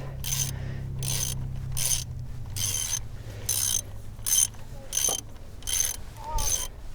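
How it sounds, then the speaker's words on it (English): A heavy-duty socket wrench ratchets at close range in a garage while bolts are worked on an FJ40, giving a regular series of about ten sharp clicking bursts over a faint background hum. "socket wrench is definitely a heavy duty bugger"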